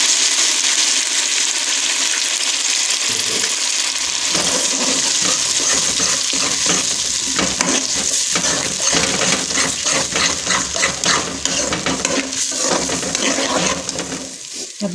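Onion, tomato and green chili masala paste frying in a pan, a steady loud broadband hiss and sizzle with scraping and clattering from stirring throughout, no talk.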